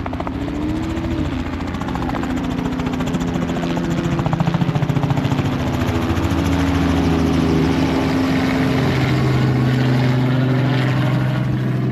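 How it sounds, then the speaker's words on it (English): A helicopter thrums loudly and steadily overhead above an ice track in Canada, its rotor chopping in a continuous pulsing drone for the whole stretch. "We've got a helicopter flying over us right now"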